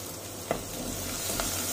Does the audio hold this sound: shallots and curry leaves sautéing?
yes